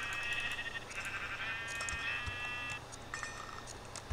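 A sheep in a video game gives a couple of short, fairly faint electronic-sounding bleats, with soft game sounds and clicks around them.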